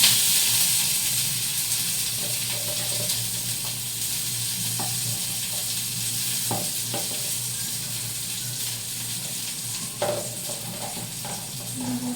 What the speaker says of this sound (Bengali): ডালনা করতে জিরা ফোড়ন দিলাম আর দিলাম লঙ্কা